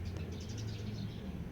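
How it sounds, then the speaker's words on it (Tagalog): Chickens and small birds call outdoors in a garden, with soft cooing and chirps layered over a steady low hum, moderately distant and continuous. "O, ayan, mga manok natin."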